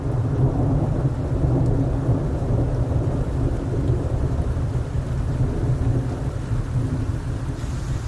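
A thunderstorm with heavy rain and rumbling thunder, recorded while stealth camping outdoors as wind picks up; a loud, continuous low roar of rain and thunder fills the whole stretch with no talk.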